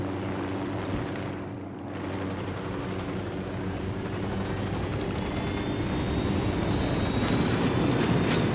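An enemy Unidad helicopter closes in over the open terrain of Ghost Recon Wildlands, its steady rotor-and-engine drone swelling louder as it nears, with brief gunfire mixed in.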